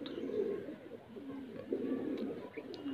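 High flyer pigeons in a loft coo in low, rolling murmurs, overlapping and steady at close range, with faint chirps now and then.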